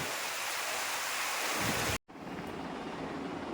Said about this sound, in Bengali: এই জাস্ট এখন বৃষ্টিটা শুরু হয়েছে